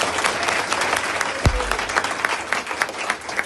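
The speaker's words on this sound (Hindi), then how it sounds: "इनका भी जोरदार तालियों से स्वागत है।" A crowd at a party meeting gives sustained, loud applause to welcome the leaders, with dense steady clapping and a brief thump partway through.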